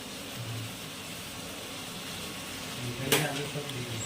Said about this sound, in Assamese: এইদৰে বিলাহী আলু দি ভালদৰে এনেকৈ ভাজি ল'ব লাগে